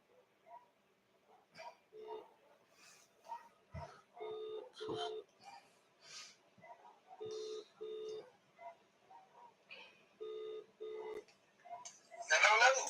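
A phone call being placed, with a repeating electronic ringback tone that sounds in short paired bursts at a steady rhythm while someone talks over and between the rings.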